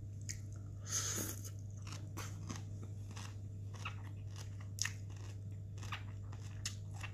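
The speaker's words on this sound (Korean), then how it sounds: "태국 음식 먹고 있어요." Soft biting and chewing of Thai food close to the microphone, a few crunchy bites and squishy chews spread over several seconds against a steady low hum, with no talking.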